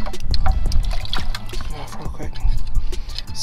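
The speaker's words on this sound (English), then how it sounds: "So what you could do is take it, rinse it off real quick." A freshly dug steamer clam is swished and rinsed in water on a California shore, with brief sloshing and splashing bursts under nearby voices.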